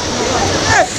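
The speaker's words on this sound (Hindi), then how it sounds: "तो ये झरना है।" Sahastradhara waterfall in Dehradun pours and splashes in a continuous loud rush close by, with a brief voice rising over the water near the end.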